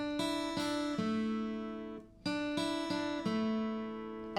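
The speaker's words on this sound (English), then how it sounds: "Now all that's missing is that mandolin section," An acoustic guitar plays the mandolin part of a song as a clear, ringing picked riff in two repeated phrases, with notes sustaining and a short gap between the phrases.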